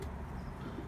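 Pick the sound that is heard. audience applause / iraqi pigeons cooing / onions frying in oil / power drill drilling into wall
iraqi pigeons cooing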